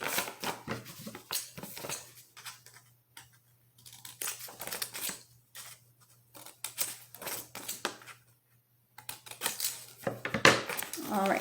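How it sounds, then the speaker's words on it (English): Scissors make short, repeated snips around the edges of map coaster paper as a craft is prepared, crisp close cuts in quick bursts separated by brief pauses, with a faint steady hum underneath. "Cutting just a little snip so that it'll be easier to fold the corners"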